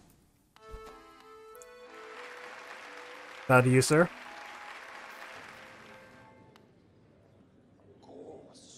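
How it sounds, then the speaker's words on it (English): Crowd applause in the video game Hollow Knight swells into a sustained wash of clapping and cheering, with a brief loud burst in the middle, while a character speaks over it and a melodic tune plays near the start. "Hear how the crowd adores you"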